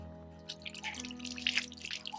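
Water poured over hands indoors at home, a soft irregular splashing and dripping that comes in small bursts, faint and close, with a low hum underneath.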